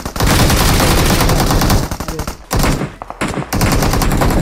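Rapid automatic gunfire in the mobile shooter BGMI: dense bursts of loud shots that break off briefly twice and then resume, with no talk over them.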